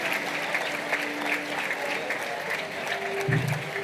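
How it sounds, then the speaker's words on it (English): A graduation ceremony audience for the Class of 2025 applauds in a soft, steady patter, fairly distant, with a faint voice near the end. "Give them a warm round of applause"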